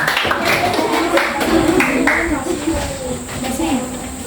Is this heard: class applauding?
yes